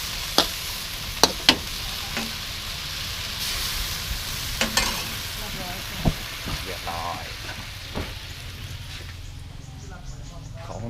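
Crispy pork sizzles steadily in hot oil in a pan for a kaprao stir-fry, a constant bright hiss broken by a few sharp pops and clicks, close and fairly loud throughout.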